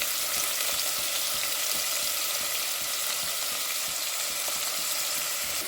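Onions sizzle steadily in hot oil in a pan for a coconut-free side dish to serve with idli and dosa, a dense, even frying hiss with faint stirring scrapes and no talk.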